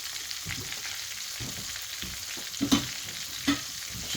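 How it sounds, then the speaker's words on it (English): Chicken pieces frying in hot oil, a steady low crackling sizzle with a couple of sharper pops near the end, moderately loud and close, no talking. "those are frying and bonding to the chicken perfectly"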